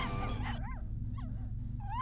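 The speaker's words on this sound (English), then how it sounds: "Why are you barking?" A dog in the video game Tales of the Neon Sea gives a few short yips and whimpers, rising then falling, under steady low game music with a brief louder burst at the start.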